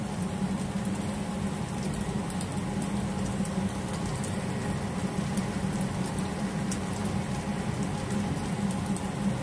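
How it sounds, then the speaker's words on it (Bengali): Veg Manchurian balls fry in hot oil over a high flame, giving a steady, dense sizzle and crackle that carries on without a break and without talk. "হাই ফ্লেমে আবার এই বলগুলো একটু ভাজা হবে।"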